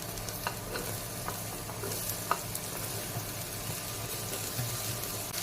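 Chopped bottle gourd sizzles and gets stirred in a hot pan, with steady frying hiss and occasional scraping clicks, close up and without talk.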